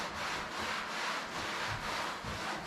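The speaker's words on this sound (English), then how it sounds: "You're not scrubbing, you're just rubbing." A towel rubs patina sauce onto the body of a 1954 Chevy, making a steady, continuous scuffing swish that pulses slightly with each stroke, close and fairly loud, with no talking.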